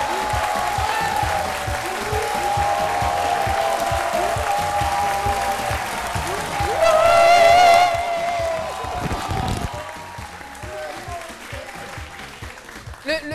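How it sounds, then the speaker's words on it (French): Loud crowd applause with whoops and cheers rising over the clapping at a television studio show, building to a peak midway before slowly thinning out. "Le fan club n'a vraiment pas lésiné sur les wouh et les applaudissements."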